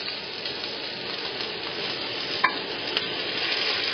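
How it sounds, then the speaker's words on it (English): Ossobuco sears in extra virgin olive oil in a pan at a trattoria, giving a steady, close, dense sizzle throughout, with a couple of sharp clicks near the end and no talking. "Sear it on every side until it's slightly brown."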